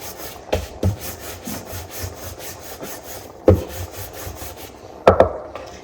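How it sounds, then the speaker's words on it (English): A rolling pin works roti dough on a board, moving out toward the edges in rhythmic rubbing strokes, broken by a few louder knocks of wood close by. "the trick is to go towards the edge and keep moving it around and roll it from outside"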